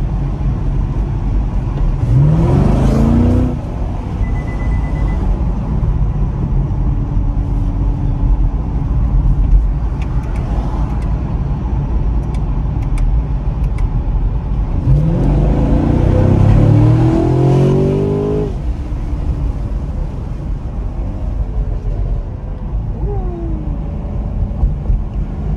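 A 2023 Chevrolet Camaro SS V8 of 455 horsepower accelerates on a night drive with the windows down, with two distinct rising revs over a steady cabin drone of engine and road noise.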